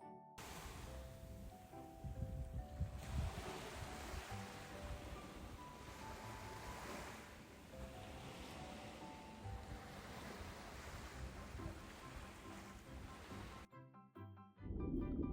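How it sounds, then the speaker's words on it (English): Ocean waves surge and wash in a continuous broad roar with wind, accompanied by soft melodic tones, cutting off briefly before the end. "This is the ocean. Oceans are huge bodies of salty water"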